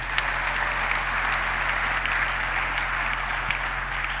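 A church congregation applauds with sustained, dense clapping from many hands throughout, steady and fairly loud, with a low hum underneath.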